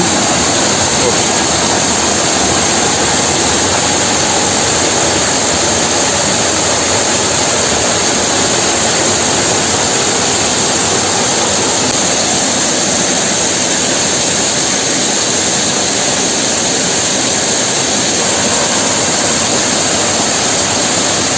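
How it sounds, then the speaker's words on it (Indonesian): Water rushes through a fairly large plastic pipe to drive an old water turbine in a forest by the Baraya river, a loud, steady, unbroken roar throughout. "Jadi diambil dari paralon yang lumayan cukup gede ya, karena supaya airnya itu kencang."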